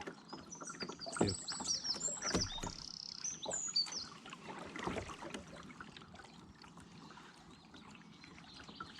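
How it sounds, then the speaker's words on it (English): A wren sings from the shore of Lake of Menteith, bright rapid trills and chirps in the first few seconds, faint and distant over soft paddling and water trickle from a kayak. "there's a wren singing very loudly"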